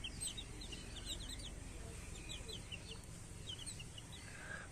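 Free-range native chickens on a small home farm clucking and calling in scattered soft bursts while they eat grass and feed, faint and mid-distance over a low steady background hum.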